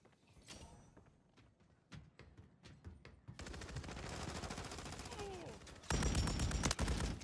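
Video game gunfire, starting as scattered distant shots and building into sustained rapid automatic bursts that grow louder and closer, with a shouted voice in the mix.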